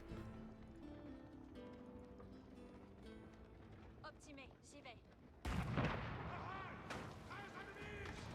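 Artillery fire from three culverins in an Age of Empires match sounds as bursts of booming shots amid in-game battle noise, with a commentator talking over it throughout.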